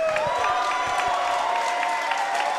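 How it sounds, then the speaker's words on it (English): Loud crowd applause and cheering at an amateur fight event in a venue, with sustained clapping under whistles and shouted voices filling the room. "Round of applause for the coaches."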